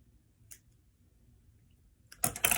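Nail polish strips being trimmed at the fingertip: a faint snip early on, then near silence, followed by a louder burst of cutting and rubbing noises close to the microphone.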